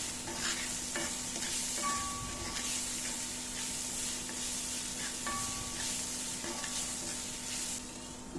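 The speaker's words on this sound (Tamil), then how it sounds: "ரொம்ப வதக்க வேணாம், கொஞ்சம் லேசாக வதக்கினாலே போதும்." Ragi vermicelli lightly sautéed in a pan, a constant low sizzle with faint repeated scraping and stirring strokes throughout, heard alone without voices.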